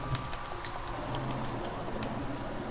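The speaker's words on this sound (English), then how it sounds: "Of course it's raining." Soft, steady rain in Minecraft patters continuously at low volume, a gentle hiss with scattered droplet ticks.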